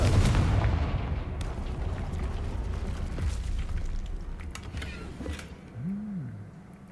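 A Confringo blasting spell exploding in Hogwarts Legacy: a heavy, booming blast at the start that rolls off into a long, rumbling decay, with a brief whooshing tone near the end.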